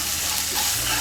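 Ginger paste and green chilli paste sizzle steadily in a hot pan while being stirred, a brief, continuous close frying hiss with no voices.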